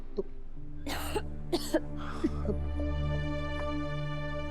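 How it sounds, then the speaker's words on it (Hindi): A woman coughs in several harsh bursts over a steady low hum, with a few smaller throat-clearing sounds after. "तुम खांस क्यों रही हो?"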